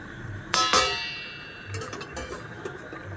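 A metal lid clanks down onto a cooking pot of katla fish curry: two sharp, close clinks in quick succession, then a few softer rattles as it settles.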